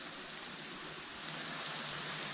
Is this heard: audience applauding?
no